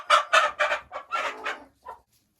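Hens clucking near the nest, including an Araucana cross laying hen, in a run of loud clucks and short cackles, then one last faint cluck before quiet.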